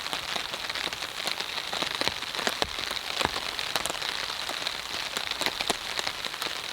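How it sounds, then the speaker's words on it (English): Steady rain patters on the surfaces of a pine forest campsite, a dense, even hiss of drops with scattered sharper individual taps, with no voices. "And here comes the rain."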